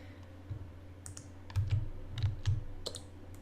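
Soft, sparse keyboard clicks from a computer during a puzzle game, a few irregular taps spread over a few seconds against a low steady hum, fairly quiet and close.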